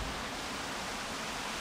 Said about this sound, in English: Yeah, I hear the water.